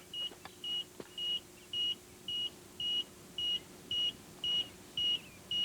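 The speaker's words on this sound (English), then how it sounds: "That's the smoke alarm." A smoke alarm chirps in a steady series of short, high-pitched beeps, about ten in a row at regular intervals, fairly loud over a quiet room.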